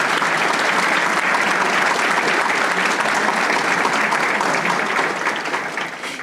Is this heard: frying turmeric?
no